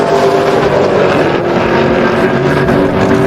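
Drag racing cars launching at Sick Week 2024, one a boosted Mustang and another launched by dropping the clutch, as a loud, steady engine roar and rush that fills the whole clip without a break.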